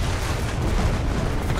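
Dense, continuous booming gunfire and explosions roar from the World War II shooter game Enlisted, loud and rumbling with no clear gaps between shots.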